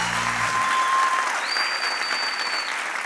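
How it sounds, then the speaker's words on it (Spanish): A live show audience claps loudly for a guest, dense continuous applause close by, with a faint tone running through it. "¡Fuerte el aplauso a Raycon!"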